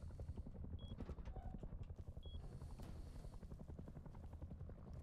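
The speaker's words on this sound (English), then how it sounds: "There's the helicopter." A helicopter flying in the Red Dead Redemption 2 game, a rapid rhythmic rotor chop that holds steady at moderate level throughout, with a couple of faint high electronic blips.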